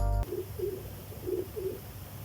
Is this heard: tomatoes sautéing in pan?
no